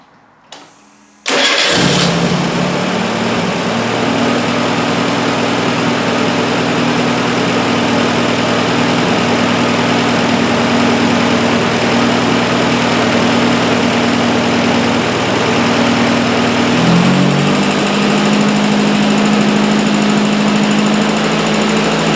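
A DIY fuel-injected turbocharged three-wheel trike engine built from auto parts cranks and starts with a sudden roar, then runs steadily at a loud, close idle with a constant hum that shifts pitch slightly near the end.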